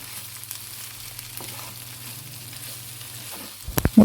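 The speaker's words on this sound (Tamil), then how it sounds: "முட்டை சேர்த்துட்டு இதோட நல்லா கலந்து விட்டுக்கலாம்." Egg stirred into a potato, onion and tomato masala in a frying pan: a faint, steady sizzle with low hum, ending in a few louder spatula clatters against the pan.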